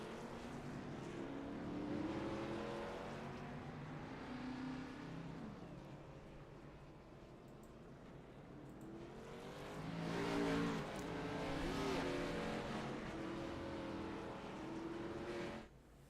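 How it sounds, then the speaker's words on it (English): Race car engines in an Asphalt Outlaws racing game rumble and swell, with two broad rises in revving over a steady, fairly faint drone and no talk. "They should be starting those engines, and we should be hearing that horsepower in just a second."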